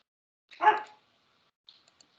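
A small dog gives a single sharp bark at close range, followed by a brief quiet stretch with a few faint, tiny sounds.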